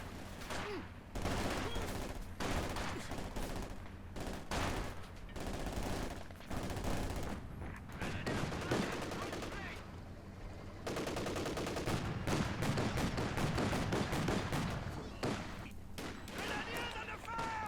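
Company of Heroes 2 battle with loud, continuous volleys of rifle and machine-gun fire, with bursts and pauses. A commentator talks over it.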